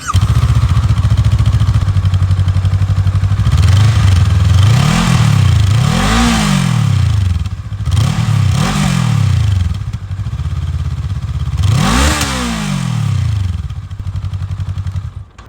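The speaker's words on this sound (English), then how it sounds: "I guess now we can do an exhaust clip and see what this thing sounds like." A 2026 Honda SCL500 Scrambler 500 idles loudly up close, its exhaust rising in a series of sharp throttle blips, a quick cluster of several revs, then a pause and one more rev before it settles back to a steady idle.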